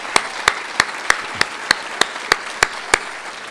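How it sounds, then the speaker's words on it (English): Crisp, evenly spaced single claps at an awards ceremony, about three per second, sharp and near, with quiet between each clap rather than a full crowd ovation. "once again, a round of applause"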